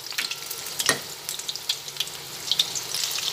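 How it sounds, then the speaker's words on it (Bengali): Chicken crispy snacks fry in oil over a medium gas flame, giving a steady close crackling sizzle dotted with sharp pops throughout, with no talking. "গ্যাসের ফ্লেমটা মিডিয়ামে দিয়ে একটা দিক ভেজে নিচ্ছি।"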